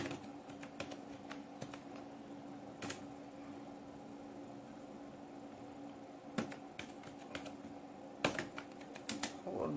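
Commands being typed on a computer keyboard while fixing a Diskpart error, heard as a steady run of close, light key clicks with occasional sharper keystrokes and a faint fan hum underneath.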